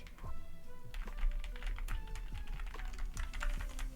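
Clicky computer keyboard being typed on very close to the microphone during a Sims 4 building stream, giving a steady run of crisp, sharp key clacks in irregular rhythm with no voice over it.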